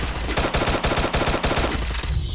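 Rapid bursts of gunfire in the Free Fire battle royale video game, loud and dense shots repeating in quick succession for about two seconds before tapering off.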